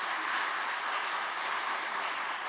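Church congregation applauding at an elder ordination service, a steady soft wash of many hands clapping, fairly distant and even throughout with no voices.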